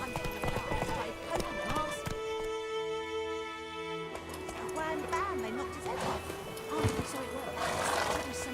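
A horse gallops in The Witcher 3 video game, with rhythmic hoof clip-clops, a whinny and game voices speaking over music and ambience.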